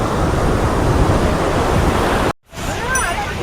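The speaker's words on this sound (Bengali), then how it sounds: "আর সমুদ্রের আওয়াজ, গর্জন" Sea waves roar in a loud, continuous wash of surf at Puri beach, mixed with wind buffeting the microphone. A short cut interrupts the sound before the surf resumes.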